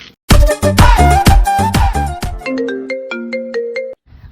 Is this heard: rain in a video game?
no